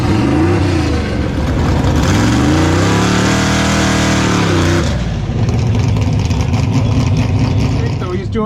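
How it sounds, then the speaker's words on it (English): A race truck on huge Mickey Thompson full slick tires does a burnout at a dragstrip, with a loud, sustained engine roar and rising revs that cut off near the end into a lower idle rumble. "So he's doing his burnout while they're prepping the track in front of him."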